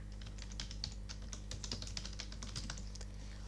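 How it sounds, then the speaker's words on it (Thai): Computer keyboard keys clatter in quick, irregular taps while spreadsheet software is in use, close and soft against a low steady hum, with no one speaking. "คุณครูก็จะพิมพ์คำว่ารวมเป็นเงินค่ะ"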